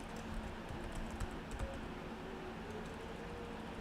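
Fingers tap out a username and password on a computer keyboard, a quiet, quick run of soft key clicks with no one speaking.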